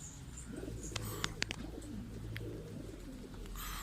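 Domestic pigeons in a new loft coo in low steady rolls throughout, with a few sharp chirps and clicks scattered in the middle and a brighter call at the end, fairly close.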